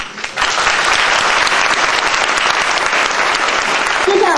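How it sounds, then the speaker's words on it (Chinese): A debate hall audience breaks into sustained applause to welcome the competing teams at a semifinal, dense and loud clapping starting after a brief quiet moment and continuing throughout. "首先让我们掌声欢迎双方代表。"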